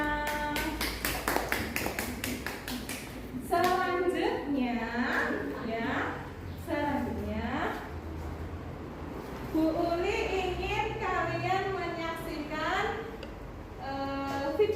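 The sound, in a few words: applause, clapping hands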